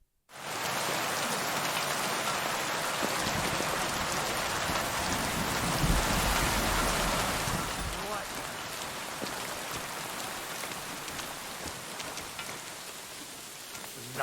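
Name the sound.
rain in the video game Kingdom Come Deliverance 2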